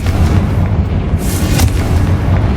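A Confringo fire spell goes off in Hogwarts Legacy with a deep, rumbling boom. A brighter burst rises midway through the low, continuous roar. It is loud and has no speech over it.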